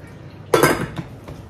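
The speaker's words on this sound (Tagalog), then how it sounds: "Maglagay din ako ng hugasan namin dito" Dishes set down in a kitchen sink for washing give one loud, brief clatter of plates and utensils, followed by a softer clink, with no voices.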